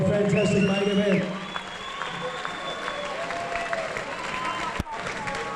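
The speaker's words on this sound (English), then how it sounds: "big round of applause for both fighters" Loud applause from a crowd, with a voice talking over it at the start before the clapping continues steadily to the end.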